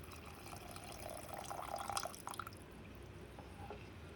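Tamarind water poured into a cooking pan for agathi keerai kuzhambu, a soft trickling splash that swells in the middle and then eases off, fairly faint and close.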